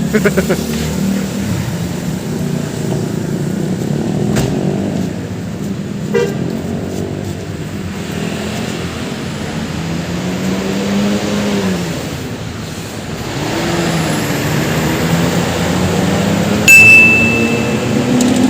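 A Hino RM 28 President Class bus on a Jakarta–Malang trip drives away with a steady, loud engine rumble, its pitch rising and falling as it pulls off, and a short horn toot near the end.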